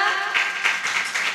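Audience applause at an Indonesian youth health event, a steady wash of many hands clapping with slight surges in intensity, fairly close and continuous for a brief moment.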